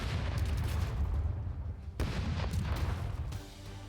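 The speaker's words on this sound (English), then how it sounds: "Let's hear those cannons roar." Cannons firing in the pirate roguelite game Rogue Waters: a continuous barrage of heavy booms and blasts, loud and dense, with a sharp fresh volley near the middle before the roar tapers slightly at the end.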